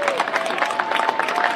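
Dense, steady clapping from a crowd at an outdoor community event, fairly loud and continuous throughout, with a faint tonal hum running underneath.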